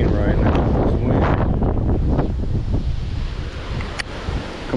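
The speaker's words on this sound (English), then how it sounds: "Insane right now, this wind." Strong hurricane wind from Hurricane Nicole roars and gusts across a neighborhood pond, loud broadband rushing that surges and eases over a few seconds.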